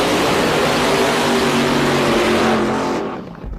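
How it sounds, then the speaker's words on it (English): Top Fuel dragster at full throttle on a drag strip, a loud sustained roar that dominates and then fades as the car pulls away. "He's driving the Mike Fuller Top Fuel car, one of the strongest cars that's been here this weekend."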